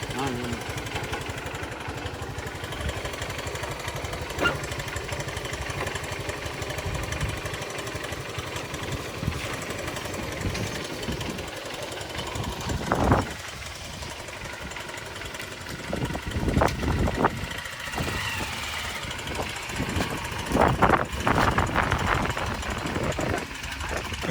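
A Honda Unicorn motorcycle engine runs steadily throughout on a test ride after a carbon-cleaning additive treatment, with a continuous low mechanical drone, occasional louder revving bursts toward the end, and people talking over it.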